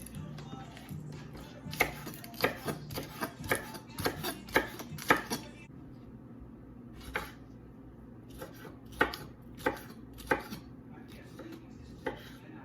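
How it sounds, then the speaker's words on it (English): Vegetables for Jamaican oxtail are chopped on a cutting board with a knife, giving sharp, irregular knocks in quick bursts, then sparser single chops, close and fairly quiet against a soft room background. "Now that all of this is washed, we're going to start cutting these up."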